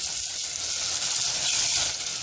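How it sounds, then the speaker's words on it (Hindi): Onions fry in hot cooking oil for a white chicken korma, giving a steady, close, loud sizzle and crackle that runs unbroken throughout with no voices. "कुकिंग ऑयल गर्म हो गया, अब मैं इसके अंदर प्याज ऐड करूंगी। और अब मैं इसे फ्राई करूंगी।"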